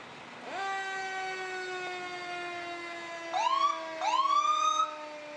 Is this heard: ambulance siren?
yes